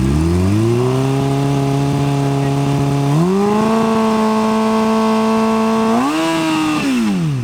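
A motorcycle engine runs steadily, then revs upward in clear stepped surges as the throttle is opened, loud and close with a strong rising whine and no talking.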